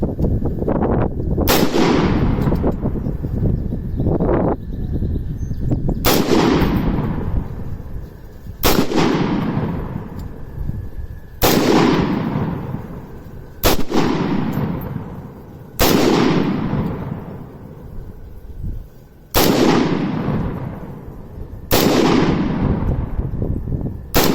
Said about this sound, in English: I'm gonna take some shots at the 30 yards